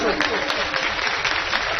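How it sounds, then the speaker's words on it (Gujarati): An audience applauds to welcome the chief minister at a public gathering, with dense, steady clapping that fills the space throughout. "મુખ્યમંત્રીશ્રીના સ્વાગતમાં તાળીઓના ગડગડાટ કરીશું."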